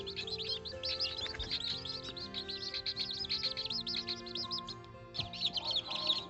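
Baby chicks peep continuously in rapid, high-pitched chirps, close and busy throughout, with a brief pause before the chirping resumes.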